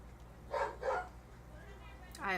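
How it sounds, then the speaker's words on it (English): Dogs give two short barks off in the background, faint and muffled, then a brief yip near the end over a low room hum. "I apologize if you hear the dogs in the background."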